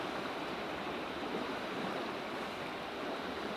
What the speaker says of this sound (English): In comes the 6-foot swell.